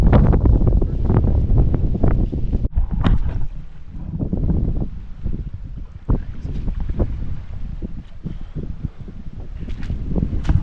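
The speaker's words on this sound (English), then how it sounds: "Wind's picking up again." Wind buffets a microphone outdoors on a fly-in caribou hunt, a steady broad rumble with gusty low-frequency surges running throughout, loud and close, with scattered knocks and rustles from movement.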